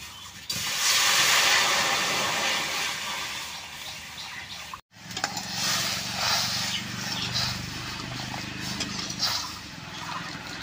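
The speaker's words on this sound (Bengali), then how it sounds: "কড়াইতে এখন জল দিয়ে দিব।" Water is poured into a hot wok (kadai) while making castor oil at home, setting off a loud rushing hiss of steam that briefly cuts out, then continues as a steady sizzle.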